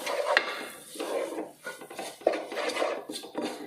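Spice powders, including chicken masala, stirred in a pan while making a Kerala chicken curry: a steady run of scraping and clinking of a spoon against the pan, close and moderately loud, with no talk.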